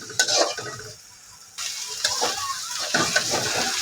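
Pangas fish pieces frying in a pan while being stirred: crackling sizzle with scraping stir strokes, a brief quieter lull, then renewed louder sizzling and stirring.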